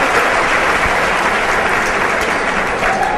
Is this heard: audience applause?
yes